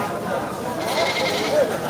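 A goat bleats briefly a couple of times amid nearby crowd chatter and background bustle at a goat market in Mymensingh, Bangladesh.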